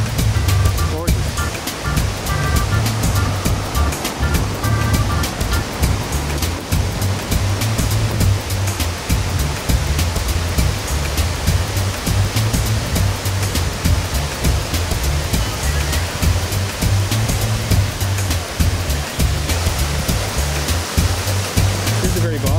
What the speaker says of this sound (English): What we have here is a waterfall in the Quinault rainforest.